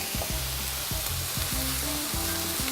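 Garlic fries with beef mince in a large pan for spaghetti bolognese, a loud continuous sizzle with repeated scraping stirs of a utensil against the pan, no voices.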